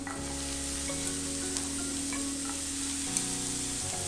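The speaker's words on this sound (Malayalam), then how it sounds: "ഇപ്പോൾ ഒരു മീഡിയം സവാള ചെറുതായിട്ട് അരിഞ്ഞത് ഞാൻ ചേർത്ത് കൊടുക്കുകയാണ്" Chopped medium onion frying in a pan for beef kondattam gives a continuous close sizzle with occasional sharp pops and spatters over a low humming background.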